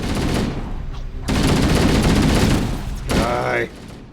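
Rapid automatic gunfire in Halo: Combat Evolved, loud sustained bursts broken by a short gap, while someone speaks briefly near the end.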